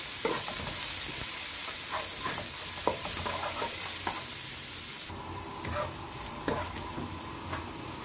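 Garlic and ginger stir-fry for clam soup with a constant sizzling hiss, broken by scraping clinks of a utensil stirring the pan, close and steady throughout.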